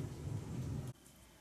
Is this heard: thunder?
yes